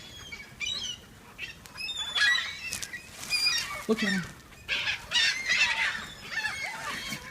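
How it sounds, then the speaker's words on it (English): Seagulls squabbling over a loaf of bread in Evansville, Indiana, giving repeated shrill calls and squawks at close range, with a person speaking briefly among them. "This is Seagulls in Evansville,"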